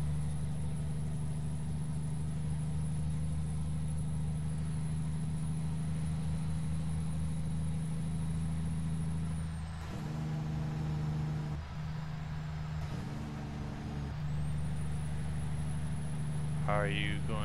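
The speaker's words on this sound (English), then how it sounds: "But this truck sounds so good bogged down under" A heavy truck engine in American Truck Simulator lugs low and bogged down under 1500 RPM, a steady deep drone running throughout with a few brief tonal shifts and a faint voice near the end.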